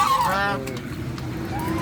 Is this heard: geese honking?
yes